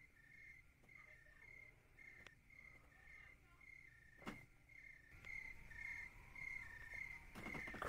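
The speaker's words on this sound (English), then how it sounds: "Crickets, just like take over the loading screen." Crickets chirp in a steady, evenly pulsed pattern on the loading screen of The Walking Dead: Season 1 video game, faint and continuous, with a few soft clicks and thumps mixed in.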